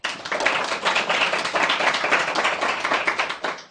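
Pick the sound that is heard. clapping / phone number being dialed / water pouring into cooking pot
clapping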